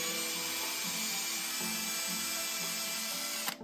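A small power drill bores steadily through a tiny LEGO V8 engine part, widening a hole for better airflow; the whine holds constant and close for several seconds, then cuts off with a brief clatter at the end.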